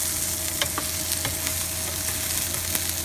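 Minced garlic sizzles steadily in olive oil in a pan, a dense close crackle with occasional scraping taps as it is stirred. Fairly loud and even throughout, with no talking.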